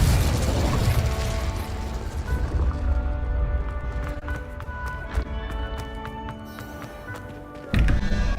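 Fiery spell blasts from Hogwarts Legacy gameplay, with a dense, rumbling burst at the start trailing into a sustained roaring wash, scattered sharp pops and crackles through the middle, and another loud impact near the end.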